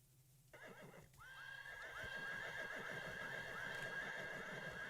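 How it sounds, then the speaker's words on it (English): Horse sounds from an itch.io indie video game: after a quiet start, a clear whinny rises, then steady clip-clopping hooves carry on at an even, close pace with no talk. "You can hear the sounds, but you can't see the horse."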